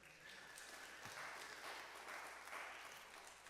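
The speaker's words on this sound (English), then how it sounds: "I'm glad you clapped because that's so huge." Audience applause at a diocese pre-convention meeting in St. John's Cathedral, Jacksonville, a steady wash of clapping from a crowd lasting a few seconds, fairly faint and distant.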